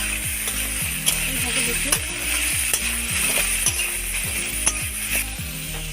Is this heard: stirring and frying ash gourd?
yes